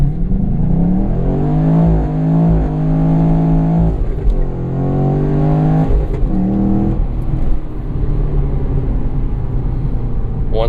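A 2017 Chevrolet SS surges through a hard 0-60 mph launch, its engine rising steadily in pitch through several upshifts, loud and close with a continuous throaty roar.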